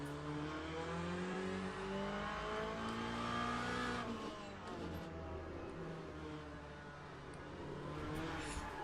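Race car engine from the Le Mans Ultimate sim racing game, a right-hand-drive car on a hot day, roaring steadily with rising and falling revs through gear changes and a brief lift near the middle, loud and continuous with no talk.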